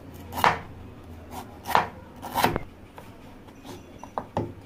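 A knife cuts through raw jackfruit on a board, several distinct chopping strokes at irregular intervals, close and fairly quiet.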